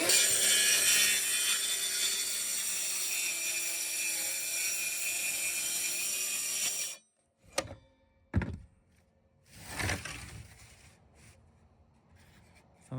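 A track saw cuts through the roof of a 100-year-old house with a loud, steady whine for several seconds, then stops; a few scattered thumps and knocks follow amid quieter handling noise.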